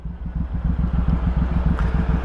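A Suzuki Boulevard M109R motorcycle rumbles loud and close while riding, its big engine pulsing in a rapid, even low-pitched throb with no talk over it.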